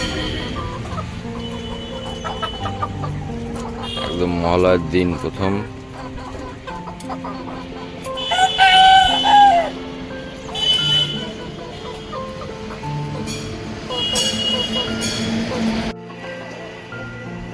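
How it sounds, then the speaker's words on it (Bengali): Desi chickens at a market on Mahalaya morning cluck in repeated bursts close by, among general bustle with a passing horn toot, while people talk. "মুরগিগুলো দেখুন,"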